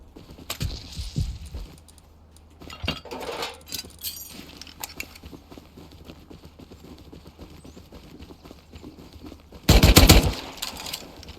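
Scattered mechanical clicks and pops from a nail gun firing in a video game gunfight, ending in a loud, dense burst of rapid shots near the end.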